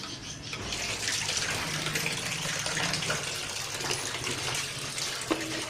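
Tap water runs steadily as the hot water is changed while making fennel distillate, a continuous soft gushing and splashing at low level with no speech.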